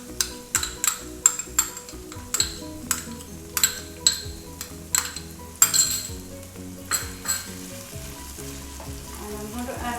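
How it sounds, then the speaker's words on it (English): Ginger garlic paste sizzling loudly in a hot pan with dry shrimps for an eggplant dish, a steady frying hiss under repeated metallic clinks and scrapes of a spoon stirring against the pan, with no speech. "To that I'm going to add about 2 tablespoons of ginger garlic paste."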